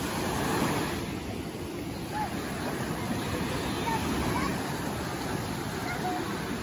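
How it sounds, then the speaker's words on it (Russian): Surf washing onto a stony public beach with white pebbles, a steady broad wash of water with wind noise, continuous and fairly close, no talking. "Вот это их пляж."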